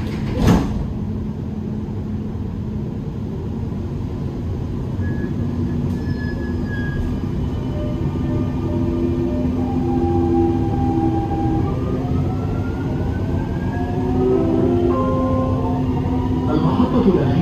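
Dubai Metro Green Line train running between stations, a steady rumbling roll with rising and falling wheel and motor whines and occasional squeals, loud and continuous throughout.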